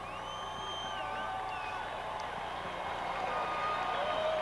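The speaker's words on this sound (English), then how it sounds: "let's give a round of applause to the San Francisco 49ers" A huge stadium crowd cheers and whoops for the Super Bowl-winning San Francisco 49ers, a continuous roar with whistles and shouts rising slightly toward the end.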